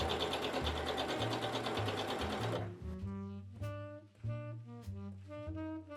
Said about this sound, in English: sew the center front seam